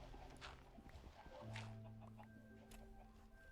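Chickens cluck a few times in the video game Minecraft, short quiet clucks against low background game sounds, with a player's voice faintly present.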